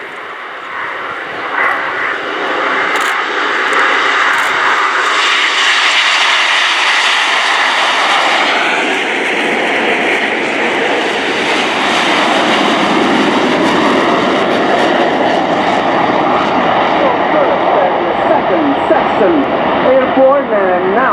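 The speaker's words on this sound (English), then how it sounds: "Acceleration during this take off roll. It will be a rotation at 115 knots for the 10 aircraft of Italian official aerobatic team." Ten Frecce Tricolori MB339 jets of the Italian aerobatic team roar through their take-off roll at RIAT 2018, a loud, sustained, rising engine rush with a commentator speaking over it.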